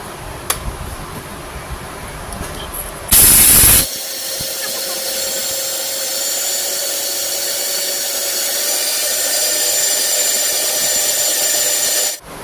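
A Panasonic mixer grinder runs steadily while grinding an ingredient to powder, a loud continuous motor whine with a brief harsher burst near the start, holding to the end before cutting off.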